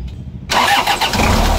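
A 4-cylinder car engine cranks briefly and catches, settling into a loud, close, rough running idle that steadies within a second, with no voices heard.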